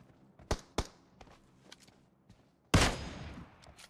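Gunfire in PUBG Mobile: two sharp close shots ring out, then fainter scattered shots and footsteps, followed by a loud burst that decays in a noisy wash.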